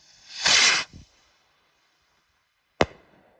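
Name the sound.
Dragon Slayer brand big bomb brocade firework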